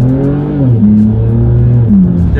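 A car pulls away hard from a standstill, the engine note climbing steadily, dipping briefly at a gear change and then rising again, loud and close throughout.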